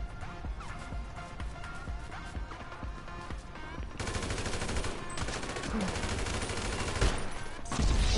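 Rapid gunfire bursts from an online shooter video game, dense volleys with sharp transients building louder after the first few seconds, a heavy crash near the end, with faint voice chat underneath.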